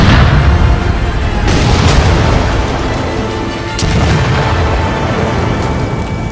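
Artillery fire in an army men battle film booms out as loud, close blasts, with sharp reports standing out over a dense, rumbling wall of explosion noise.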